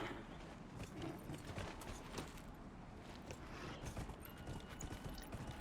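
A horse's hooves clop in a steady running rhythm in the video game Dragon Age: Inquisition, quiet and blended with busy game ambience and faint mechanical clatter.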